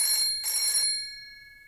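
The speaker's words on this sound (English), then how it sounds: "Call has been forwarded to voicemail." A phone line rings twice in a short electronic burble, the second ring cut off as the call goes to voicemail, followed by silence.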